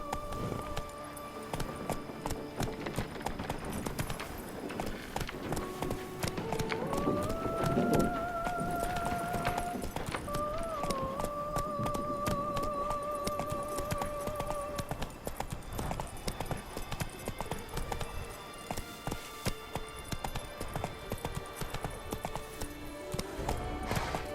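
Roach the horse gallops steadily in The Witcher 3: Blood and Wine, a continuous rapid clip-clop of hooves close up, joined midway by a long whinny and a bed of game music.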